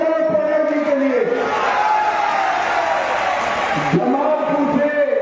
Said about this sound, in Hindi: जोर से ताली बजाओ प्रणब जी के लिए